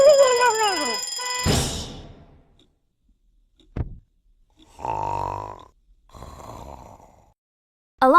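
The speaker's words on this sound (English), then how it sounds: "An alarm is a loud sound that tells you to do something" A cartoonish alarm sound effect from the Endless Alphabet educational game plays loud and close: warbling descending tones, a crashing burst, then buzzy ringing blasts separated by short silences.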